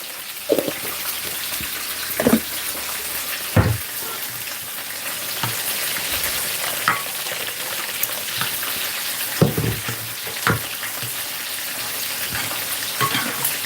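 Garlic chicken frying in a pan, a constant dense sizzle with occasional knocks and scrapes as the pieces are stirred back and forth.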